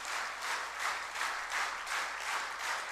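Audience applause in a crowd gathered before a Hindu spiritual teacher, a dense steady wash of many hands clapping that swells and dips in regular waves throughout, with no voices over it.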